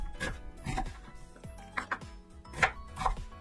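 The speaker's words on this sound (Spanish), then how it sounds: "vamos a picar entonces primeramente nuestra cebollita" An onion being chopped on a cutting board, with a string of about eight uneven, close knife knocks and scrapes against the board, each one distinct, and no talking.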